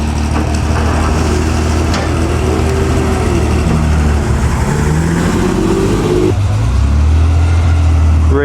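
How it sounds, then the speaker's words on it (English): An orange BMW M1 sports car arrives at a concours d'elegance, its engine droning loudly and steadily with rising and falling revs, close by and continuous throughout, alongside background engine noise from other classic cars. "Here's an M1 coming in orange."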